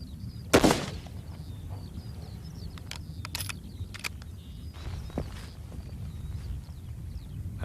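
A single sharp rifle shot cracks out during Royal Marines sniper training firing at a target 200 meters away, followed by faint scattered clicks and footsteps over a low outdoor rumble.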